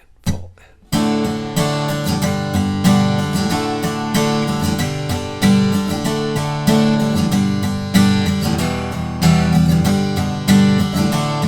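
Steady rhythmic strumming on an acoustic guitar plays the bridge of a song, with regular accented downstrokes and chord changes, loud and close.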